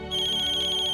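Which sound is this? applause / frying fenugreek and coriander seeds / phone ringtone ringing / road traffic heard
phone ringtone ringing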